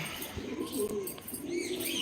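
Soft, low pigeon cooing repeats through a steady background hum, with faint chirps higher up and no voices.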